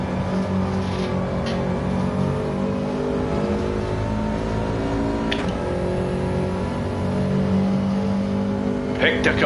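Loud, continuous race car engine in a racing video game at the Nürburgring, revving and shifting steadily up close, with a voice speaking faintly beneath it.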